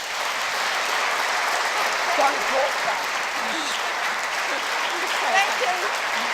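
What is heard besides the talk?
audience applause at a prize-giving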